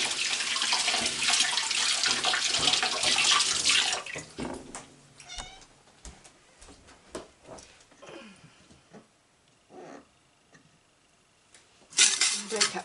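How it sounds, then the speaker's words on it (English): Tap water runs steadily into a kitchen sink while hands are washed during home cheesemaking, a full splashing rush that stops after a few seconds, followed by scattered clinks of utensils and dishes and some quiet talk. "wash our hands."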